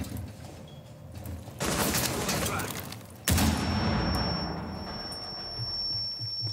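A grenade goes off in a Rainbow Six Siege match, a sharp broadband blast cutting in about halfway through amid ongoing gunfire-like crackle and game noise, with a bright steady whine lingering after the explosion.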